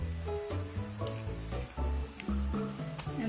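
Pineapple slices drop into a pan of pork for Filipino pork hamonado, setting off a steady close sizzle with short bursts of frying as the fruit hits the hot meat.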